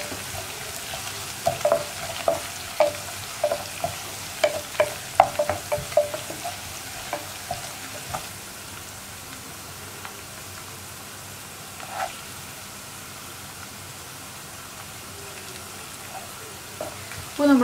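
Curry leaves, ginger and garlic fry in oil in a pan for lemon pickle, with a crackling sizzle and a burst of light spatter taps early on, then a quieter steady frying.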